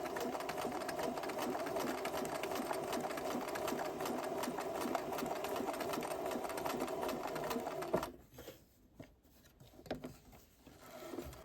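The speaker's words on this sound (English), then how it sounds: "I'm just going so that the right side of my needle just barely hits the edge or just slightly outside the" A sewing machine runs continuously, stitching a zig zag stitch on fabric, then stops near the end, leaving a few faint handling noises.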